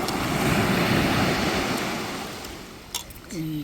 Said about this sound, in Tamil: கடல் ஆக்ரோஷமாக இருக்கு